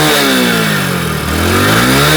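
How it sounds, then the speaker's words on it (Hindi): A Hero HF Deluxe motorcycle engine, two years into ownership, revs up close by, its pitch climbing and dipping over about two seconds in a loud, steady mechanical drone with no talking. "बाकी इंजन साउंड की अगर मैं बात करूँ आइडलिंग पे, तो कुछ इस तरीके का है"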